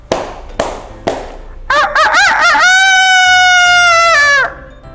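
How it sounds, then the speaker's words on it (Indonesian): A rooster crows once, loud and close, with a long wavering call, after a few sharp knocks and brief bleating notes. "Dan diiringi suara ayam jago berkokok teman-teman semuanya."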